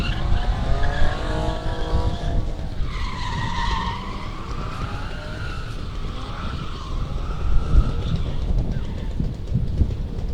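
A drift car at a motorsport drift park slides through a corner with long, loud tire squeals rising and falling in pitch over a roaring engine, with a commentator's voice faintly under the noise.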